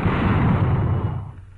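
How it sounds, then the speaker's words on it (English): A mortar fires at a WWII reenactment: a loud, close, broadband blast that rolls on for over a second before fading, with no talking. "A mortar."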